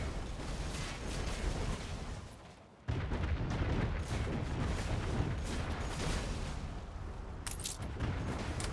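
Naval ship cannon fire in the strategy game Anno 1800, a dense, continuous roar of booming broadsides and battle noise, loud and unbroken apart from a brief dip.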